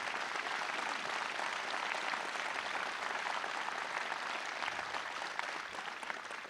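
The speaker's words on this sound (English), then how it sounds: "Let's give all of our law enforcement officers a round of applause." Sustained applause from a crowd at a Pennsylvania political event honoring law enforcement officers, a dense even roar of clapping that holds steady and eases slightly near the end.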